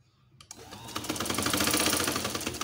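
A sewing machine stitches felt for a handmade babushka doll, starting abruptly and running as a steady, close, fairly loud whir with a fast mechanical rhythm.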